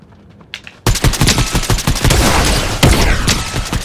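Rapid automatic gunfire from a Fortnite match crackles in loud, close bursts, a volley of sharp shots following a brief quiet lead-in.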